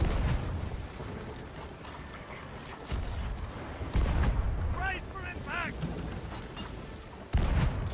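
Repeated deep booms of ship cannon fire in the video game Sea of Thieves thud over a constant rumbling battle din, with a couple of whistling sweeps in between.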